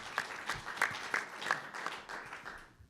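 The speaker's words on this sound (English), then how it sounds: "let's give them another round of applause for what they do for this community" Audience at a Valero Alamo Bowl head coaches press conference gives a round of applause, a moderate scattered clapping from a modest crowd that fades out by the end.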